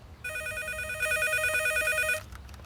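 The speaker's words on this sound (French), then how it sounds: "Madame Gonzalez, décrochez, mais dites surtout qu'on est là pour personne." An indoor telephone rings in one steady electronic trill that lasts about two seconds and then stops. It sounds clear and fairly quiet over a low room hum.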